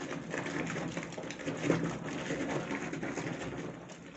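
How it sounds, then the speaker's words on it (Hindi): Foamy liquid sloshes steadily inside a container being shaken by hand, a continuous wet churning that stays fairly even for a few seconds with no voices. "शेक करते हैं इसको।"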